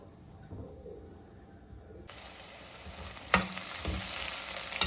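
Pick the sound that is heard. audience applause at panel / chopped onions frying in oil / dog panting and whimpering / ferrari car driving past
chopped onions frying in oil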